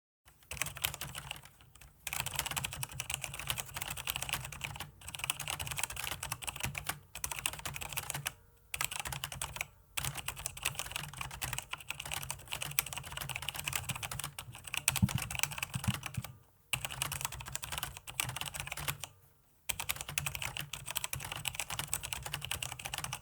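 Steady, fast typing on a Logitech G310 Atlas Dawn gaming mechanical keyboard with Romer-G switches, dense key clicks continuing for a long stretch with a few brief pauses, close and fairly quiet, no voices.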